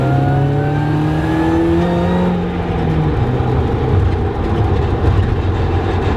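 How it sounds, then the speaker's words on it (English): A supercharged Mazda Miata rally car engine whines and revs nearby, its pitch sliding down as it decelerates, then settling into a rough, rumbling idle. "I love the sound of this supercharger."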